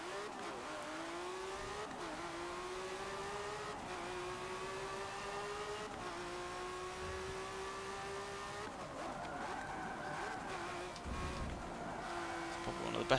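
Engine of a 2016 Lamborghini Centenario LP 770-4 in Forza Motorsport 7, a loud steady high-revving roar with rising pitch through gear shifts, a brief dip near the end before climbing again, heard alone without talk.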